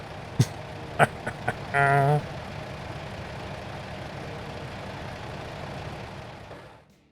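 A Volvo truck engine in a trucking video game gives a steady low idling drone. A few sharp clicks and a short loud blast come early, and the engine fades out at the end.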